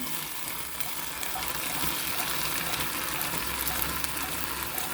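Steady sizzling and bubbling of drumsticks (moringa pods) frying in a pan, a continuous hiss that holds even throughout with no voices.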